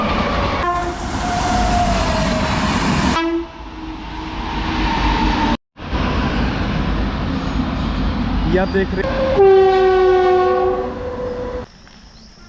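A train rumbles and clatters past at Shambhu railway station, loud and close, with a sustained horn blast partway through; someone speaks briefly.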